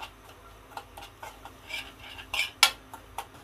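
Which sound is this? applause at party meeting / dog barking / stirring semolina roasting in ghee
stirring semolina roasting in ghee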